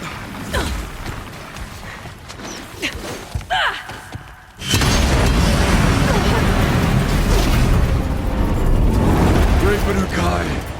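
An explosive-ammo blast in the Horizon Zero Dawn game, a sudden loud boom that swells into a sustained roaring rumble after a stretch of game sounds and voice activity.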